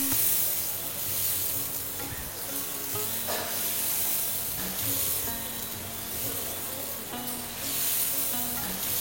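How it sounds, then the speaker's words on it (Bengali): Coconut paste and water being stirred in a pan for chhanar korma, a steady wet sizzle with soft scraping strokes running throughout, fairly close and alone. "এবারে জল দিয়ে খুব ভালো করে নেড়ে মিশিয়ে নিতে হবে।"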